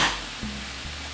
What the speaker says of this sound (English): just finishing to brown the last of my hamburger